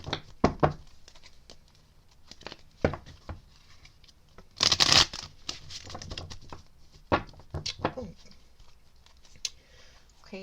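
Tarot cards being shuffled by hand, with soft riffling and tapping bursts, one louder flurry in the middle, close and quiet against a faint room background.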